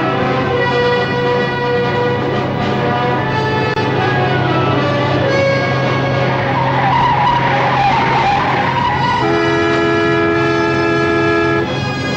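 In a 1955 American film, a truck is forced off the road with a long, loud, continuous tire screech that wavers through shifting squealing tones for over twelve seconds, with no speech.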